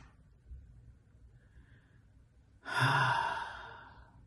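A slow, audible exhale at the end of a calming breath-hold exercise for exam anxiety, rising suddenly after near silence and fading gradually over more than a second, close and breathy with no talking.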